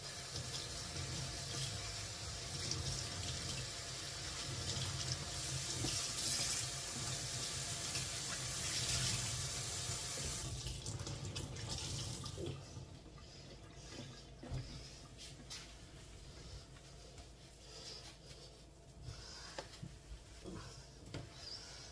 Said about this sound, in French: je vais rincer ma lavette